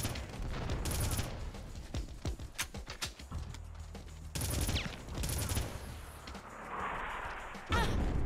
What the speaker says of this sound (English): I'm getting tickled by those rockets.